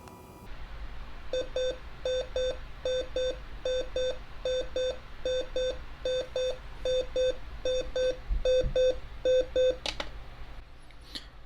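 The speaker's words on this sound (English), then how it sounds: "that's kind of a weird alarm sound" Electronic alarm of an Emerson SmartSet radio alarm clock beeping in repeated quick groups of four tones, steady rhythm, loud and close, stopping after about ten seconds.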